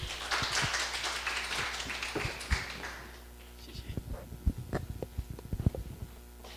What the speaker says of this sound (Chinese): 请大家热烈掌声欢迎